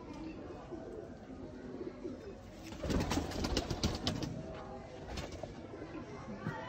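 Bateray pigeons coo in low, rolling calls, soft and fairly close, swelling briefly louder midway with faint voices murmuring beneath.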